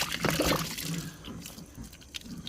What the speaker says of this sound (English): Before you start putting plants in the propagation box, you need to water it.